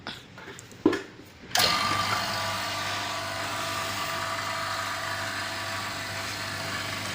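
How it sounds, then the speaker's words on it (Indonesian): Vacuum pump drawing air out of the refrigerant pipes of an LG inverter refrigerator, starting abruptly after a few faint clicks and then droning loud and steady up close with no talking. "ini kita vakum untuk membuang semua udara yang ada di dalam sistem refrigeran, sistem pipa ya"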